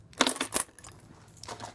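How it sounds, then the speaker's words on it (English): A set of work keys handled and shaken, giving a few quick metallic jingles and clinks close by, densest in the first half of the short moment, then trailing off into quieter rattles. "My keys from work."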